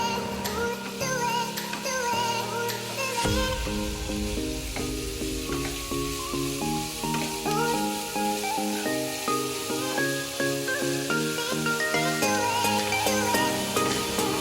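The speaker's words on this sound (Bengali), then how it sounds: "চারিদিকটা মিশিয়ে ভালো করে নাড়াচাড়া করে দেব।" Sliced bitter gourd fries with salt and turmeric in a pan while being stirred, a steady sizzling hiss running throughout beneath prominent melodic background music.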